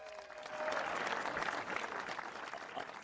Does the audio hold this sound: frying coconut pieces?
no